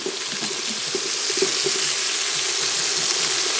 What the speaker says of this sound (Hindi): डाल देते हैं पानी एक